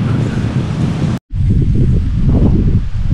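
Wind gusting across a beach in rainy weather, a loud roaring rush buffeting the microphone with surf-like wash underneath, cut by a brief silent dropout near the middle.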